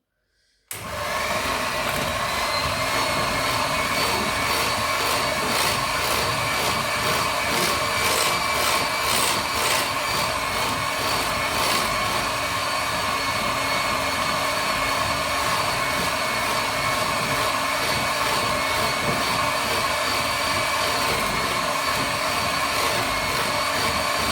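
An electric whisk runs continuously in cake batter for a coffee and walnut cake, switching on abruptly into a loud, steady high-pitched motor whine with a rattling churn, close to the mic, with no talking.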